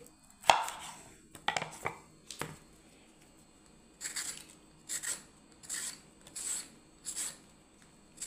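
Knife cutting off a piece of fish on a board while preparing it for macher jhal, a few sharp chops early on, then a series of rhythmic rasping cuts, close and moderately loud with no talk.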